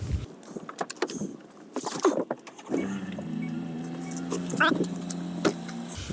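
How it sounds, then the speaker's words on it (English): A jump-started car, previously dead, cranks briefly and catches, then settles into a steady idle, heard close up with some clicks and jangles before it starts. "So I did jump start the car. Now it works."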